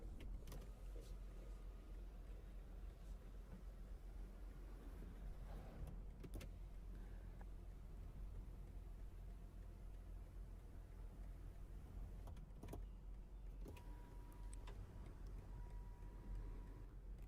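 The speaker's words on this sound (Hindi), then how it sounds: "और ये है पैनोरामा ग्लास सनरूफ" An electric motor slides the panoramic glass sunroof of a 2023 BMW X5 xDrive40i M Sport, a faint steady hum inside the quiet cabin with a few soft clicks.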